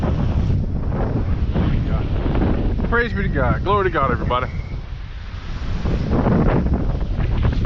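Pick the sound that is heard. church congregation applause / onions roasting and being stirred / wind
wind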